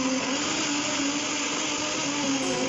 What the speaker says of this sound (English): now I'm going to be blending my tomato, my onion, ginger,